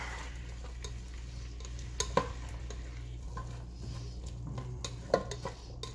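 Chicken empanada filling seasoned with Haitian epis being stirred in a pan: a steady low hum with occasional sharp clicks and taps of the utensil against the pan.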